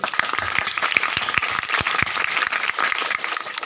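Audience at a school NSS ceremony handing over a home to a classmate's family, clapping in a dense, steady burst of many hands, loud and close, with no talking over it.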